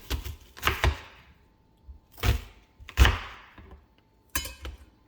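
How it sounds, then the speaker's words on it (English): Half an onion is cut into smaller pieces on a board, a few separate knife thunks in uneven bursts, close and fairly quiet, with silence between strokes. "We got our half onion. I'm also just gonna cut it in smaller pieces."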